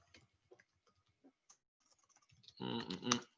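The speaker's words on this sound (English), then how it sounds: "I'm going to type this in the chat" Sparse light clicks of computer keyboard typing, then a voice begins speaking near the end, the keystrokes quiet and close.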